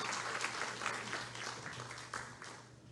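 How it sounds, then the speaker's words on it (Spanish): An audience at an international legal conference in Peru applauds steadily, a dense and even wash of clapping from a large crowd that carries on for several seconds, moderately distant. "Fuertes aplausos para nuestro 6º y último panel de la jornada"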